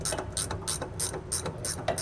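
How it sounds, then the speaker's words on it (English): Quick, evenly spaced clicks from a ratchet turning a 15 mm socket to remove a nut on a 2005 vehicle's helper spring mount, close up, about eight strokes in two seconds with no talk. "We'll take the nut off with a 15 millimeter socket."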